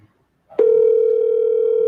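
A steady telephone dial tone comes on abruptly after a brief click and holds unbroken at an even level, heard alone once a call has dropped.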